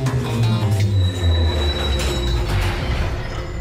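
A train in a Slugterra cartoon rumbles loudly along the rails with steady heavy wheel noise and a thin high squeal, continuous and close.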